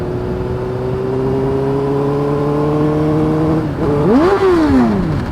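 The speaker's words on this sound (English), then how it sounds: "Whoa, I slipped out of gear." A motorcycle on an autumn ride idles and hums steadily up close, then slips out of gear and its engine revs up sharply before easing back down, loud and with no talking.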